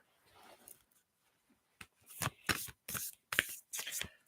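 An Isis oracle card deck being shuffled, with several crisp bursts of cards riffling close up, each a quick papery flutter separated by short pauses, after a quiet start.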